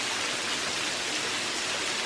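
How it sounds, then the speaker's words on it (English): A powerful waterfall in Bankhead National Forest, Alabama, roaring as a steady, dense broadband rush of falling water, close and continuous with no voices. "Nice to end on a waterfall as great as this too"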